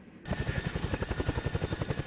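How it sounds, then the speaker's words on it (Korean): A Chinook military helicopter landing, its heavy rotor thumping in a steady rapid pulse with a high turbine whine above, loud and close, starting abruptly after a brief quiet moment. "드디어 고공 강화를 위한 헬기 시누크가 착륙하는데"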